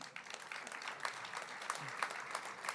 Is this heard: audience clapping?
yes